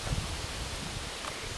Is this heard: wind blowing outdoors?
yes